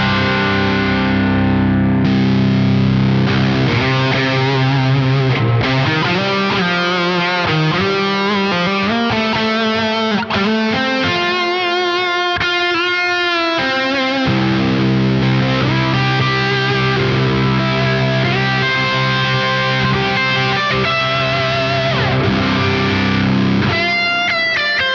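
Electric guitar played through the crunch channel of a Revv Generator 120 amp with added reverb and delay, sounding loud and continuous with distorted chords and lead lines throughout.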